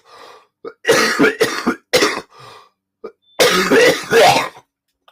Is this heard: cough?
yes